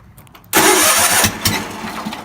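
A cold Ford LGT 145 lawn tractor engine cranks briefly, then catches and roars loudly, settling into a rough, uneven idle with pulsing firing as one cylinder lags behind the other.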